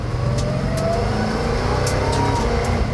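A 1000-horsepower Dodge Charger Hellucination with an eight-speed ZF automatic pulls away in first gear, its engine roaring loud and close with a rising, gravelly note and a few sharp crackles.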